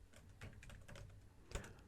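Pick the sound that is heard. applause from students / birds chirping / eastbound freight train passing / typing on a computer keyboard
typing on a computer keyboard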